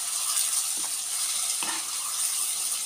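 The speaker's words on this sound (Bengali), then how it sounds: "এই জিনিসটা এখন আমি এর মধ্যে দিয়ে দেবো, তেলের মধ্যে। ঠিক আছে, তো তেলের মধ্যে দিয়ে দেবো এটা। দিয়ে এটাকে আমি এখন অল্প টাইম কষাবো।" Spice paste fries in hot oil for a dried-fish (shutki) curry, giving a continuous, fairly loud hissing sizzle with a couple of faint scraping stirs.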